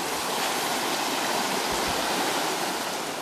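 A river in Muniellos, Asturias, flowing in a continuous broadband rush of water, loud and close, steady throughout with faint gurgles and no voices.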